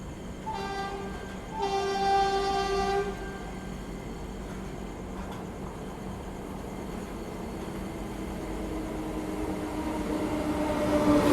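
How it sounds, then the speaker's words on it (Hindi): Garib Rath Express, the Lucknow–Bhopal train, overtaking on an adjacent track, with a sustained horn blast near the start followed by a steady rumble of passing carriages that swells toward the end. "गरीब रथ एक्सप्रेस लखनऊ भोपाल गरीब रथ एक्सप्रेस यहाँ पे हमें ओवरटेक कर रही है भाई"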